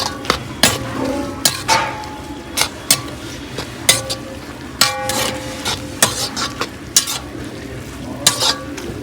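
Keerai kootu frying in a pan, a steady sizzle beneath repeated sharp clinks and scrapes of a spoon stirring against metal, close and fairly loud, no talking.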